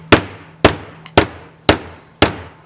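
Five sharp hammer blows land on a Google Pixel phone at a steady pace, each a hard crack with a brief ringing decay, close and loud.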